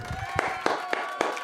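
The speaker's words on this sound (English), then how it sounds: "Let's have a round of applause for Cathy Cat." A small group claps in a brief round of applause, with a few sharp, separate hand claps ringing out over a murmur of background voices.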